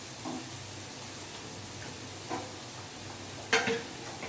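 Spices and green chillies frying for a samosa potato filling, a soft steady sizzle in the pan broken by a few stirring scrapes and one louder clatter near the end.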